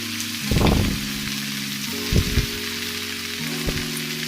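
Okra and potatoes seasoned with salt and turmeric fry in a pan. A soft, steady sizzle is broken by three short bursts of stirring or scraping, with no voices.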